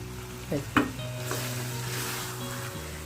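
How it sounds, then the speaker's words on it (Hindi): Minced meat and liver fry in a pan with lemon, yogurt and garam masala, giving a steady close sizzle, with a couple of utensil scrapes and knocks early on as the mixture is stirred. "मैंने इसमें लेमन, दही, गरम मसाला डाल के ना अब इसको करेंगे अच्छे से भुनाई"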